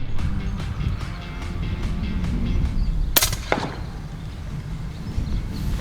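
FX Impact M3 800mm air rifle with a power barrel firing a Fat Bastard pellet during a long-range bird hunt outdoors, one sharp crack partway through followed by a brief thud, over steady outdoor background noise with no talk.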